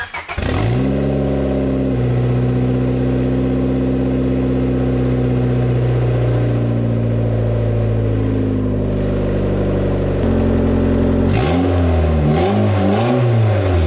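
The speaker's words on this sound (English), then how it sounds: "I wanna hear what the little turbo sounds like" A turbocharged Honda Civic B18C with a Garrett G30-660 turbo, running open off the exhaust housing, starts, idles loudly and roughly with rising and falling revs, then ends with several sharp throttle blips close by.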